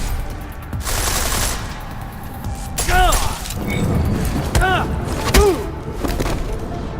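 Gunfire in the video game Deus Ex: Mankind Divided, bursts of rapid shots with sharp cracking impacts and ricochet-like whines, dense and loud throughout, mixed with game sound effects and some voices.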